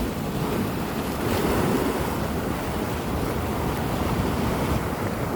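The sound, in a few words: rough sea waves on rocks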